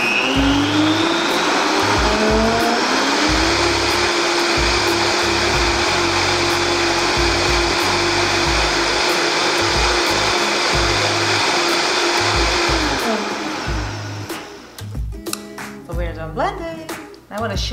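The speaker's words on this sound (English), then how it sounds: "Now we're gonna blend it. Basically we're blending it so we can mix in the spices very well, right?" A kitchen blender whirs through an iced, dairy-free turmeric latte with spices, spinning up with rising pitch, holding a loud, steady motor roar for several seconds, then winding down and stopping, followed by clinks and handling sounds.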